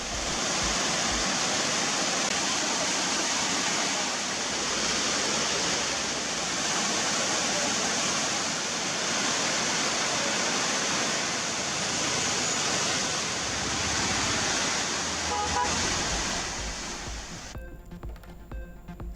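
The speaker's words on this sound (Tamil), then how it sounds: "கொடைக்கானலில் நீண்ட நாட்களுக்கு பிறகு வெள்ளி நீர்வீழ்ச்சியில் ஆர்ப்பரித்து கொட்டிய தண்ணீர்" Water roars down the Silver Cascade waterfall in Kodaikanal as a dense, steady, loud rushing wash that stays unbroken for most of the span before cutting off near the end.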